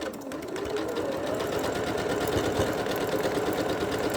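A sewing machine stitches quilt blocks for a pixel quilt in a steady, fast, continuous whir with rhythmic needle chatter, close and loud throughout.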